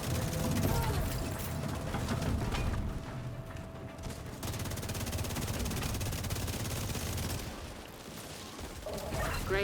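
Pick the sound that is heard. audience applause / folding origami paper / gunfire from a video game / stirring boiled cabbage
gunfire from a video game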